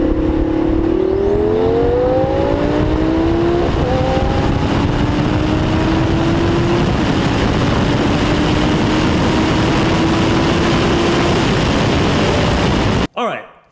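Street racing car engine at full throttle, loud and close, revving up through several gear changes and then holding a steady roar before cutting off abruptly.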